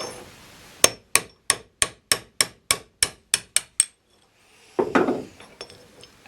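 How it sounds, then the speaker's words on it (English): A run of eleven sharp, evenly spaced metallic hammer blows on a bolt drives an old bush out of a Nuffield tractor water pump, followed by a brief scraping clatter as it knocks loose. "and get a hammer."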